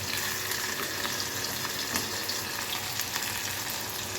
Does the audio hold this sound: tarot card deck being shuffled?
no